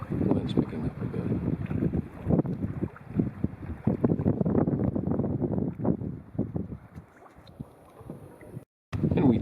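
Wind gusting across North Hegman Lake during a canoe trip in the Boundary Waters, buffeting the microphone in rough, uneven bursts with a brief dropout near the end.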